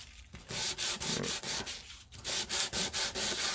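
A scrap of sandpaper rubs back and forth over wood in quick, rhythmic strokes, close and fairly quiet, with brief pauses between bursts of scratchy sanding.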